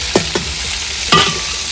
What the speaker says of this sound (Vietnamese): Nó cái xương với cũng còn thịt tại mình lóc không có hết nổi. Đó, mình đem mình chiên giòn luôn.